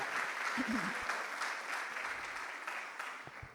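Church congregation applauding during a sermon, a steady wash of clapping that holds evenly across the whole stretch, with a brief murmur of voices near the start.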